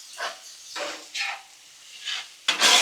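Cheese being mixed into chicken alfredo on a Blackstone griddle: several short scraping, stirring strokes with a soft sizzle, close and fairly loud, coming in bursts with brief pauses between them.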